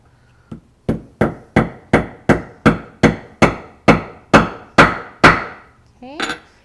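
A rivet on a leather strap is struck with a hammer in about a dozen sharp, evenly spaced blows, each one close and crisp with a short decay, followed by a softer final tap.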